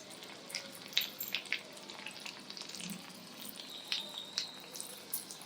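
Medu vada batter for a fasting recipe dropped into hot oil, giving soft, steady frying sizzle with scattered small crackles and pops across the whole stretch, no voices.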